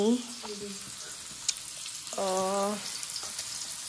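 Ghol fish frying in a pan, a steady sizzle throughout, briefly overlaid by a voice speaking and a short tonal sound partway through.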